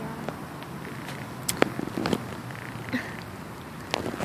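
A house cat purrs close by, a low steady rumble broken by a few soft clicks and rustles of movement.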